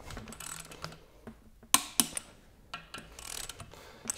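A torque wrench tightening stud bolts on a Lamborghini engine block, giving quiet ratcheting clicks and a few sharp metallic ticks at close range, with no talk.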